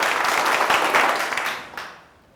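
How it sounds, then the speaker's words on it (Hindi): Students in a classroom activity applaud together in a burst of clapping that fills the first two seconds, then tapers off quickly to near silence. "सभी के लिए एक बार जोरदार तालियां हो जाइए।"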